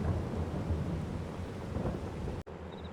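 Steady rain with rumbling thunder in the Farming Simulator 22 video game, a dense continuous downpour and deep rolling booms that cut off abruptly near the end.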